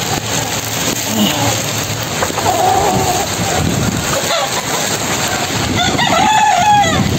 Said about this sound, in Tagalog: So, yan mga paragmanok. Ayan ang mga alaga natin.